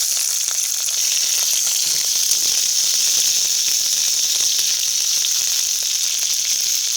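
Capsicum and green chillies sizzle loudly in hot oil with spices and curry leaves, a steady close frying hiss that runs unbroken throughout with no voices.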